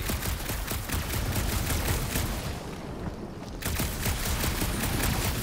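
Sustained heavy gunfire in the Marvel's Guardians of the Galaxy video game, a loud unbroken stream of rapid shots that dips briefly midway and then surges back, with no voices.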